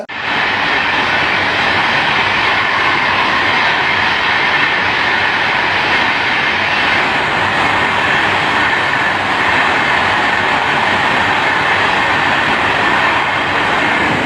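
A passenger train with Amrit Bharat coaches rolls through Palayam station in Tamil Nadu, a loud steady roar of wheels and carriages close by, unbroken throughout with no voices.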